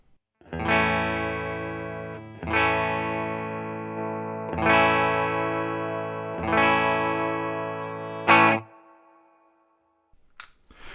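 Electric guitar on the bridge pickup through a Boss GE-7 graphic EQ pedal, with a driven, overdriven tone, strums four sustained chords at a steady pace, followed by a short sharp hit and fade.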